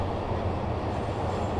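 A train passes close by, a loud steady low rumble of rail cars that holds at the same level through the whole short stretch, with no talk over it.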